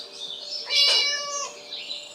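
A video game cat in Scary Teacher gives a single drawn-out meow that rises and falls over a quiet background, clear and fairly close, with faint tonal hum beneath.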